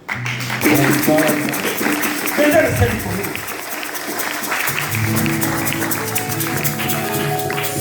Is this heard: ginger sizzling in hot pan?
no